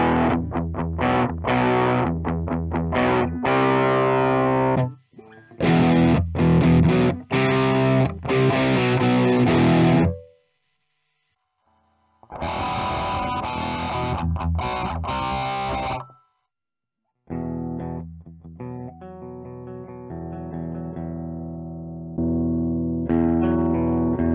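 Electric guitar played through a TONEX One amp model with effects, loud and distorted with echo, strummed in several sustained phrases broken by short silences.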